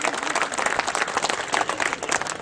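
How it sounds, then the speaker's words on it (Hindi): Thunderous applause from the audience at a Rajasthan government anniversary programme in Churu, a thick, continuous roar of clapping without a break. "जोरदार गड़गड़ाहट तालियों की।"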